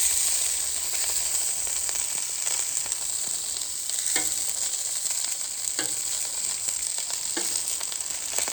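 Food sizzles loudly and steadily on a four-burner Callow plancha as it is moved and turned, with occasional scraping touches under the constant frying hiss.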